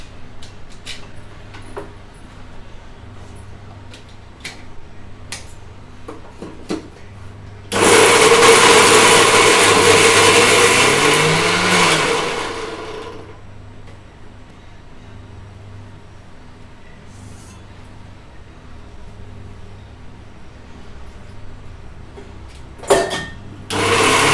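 A mixer grinder whirs loudly for about five seconds while grinding coriander seeds and spices for a Nagercoil-style fish curry, starting abruptly and winding down, between quieter kitchen clicks and handling sounds.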